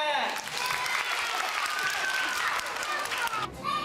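Studio audience applause at a Taiwanese TV variety show after a comedy skit: dense, steady clapping from a crowd that fills the whole stretch at an even loudness before fading slightly at the end.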